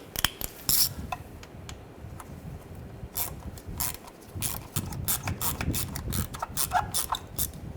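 Screw being tightened down by hand on a 2011-2018 Volkswagen Jetta during an oil pressure switch replacement, with a series of quick ratcheting clicks and small metallic taps in irregular bursts, close and moderately loud, no talking.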